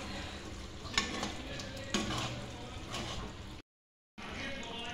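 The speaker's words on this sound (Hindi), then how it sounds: "मसाला को हम अच्छे से भूनेंगे, मसाला को हम पकाएंगे।" Kadhai paneer masala sizzles and fries in a pan while being stirred, giving steady hiss and crackle with a few clinks of the spoon against the pan and a brief cut to silence near the end.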